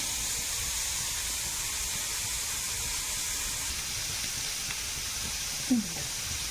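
Bitter gourd fries in a pan with a steady, soft hiss and sizzle throughout, broken by a brief clink near the end.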